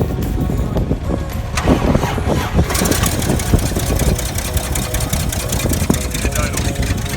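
A 1985 Toyota Land Cruiser FJ60 barn find, stored for three years, is cranked and starts up, then settles into a steady, loud, close idle with a dense mechanical rumble.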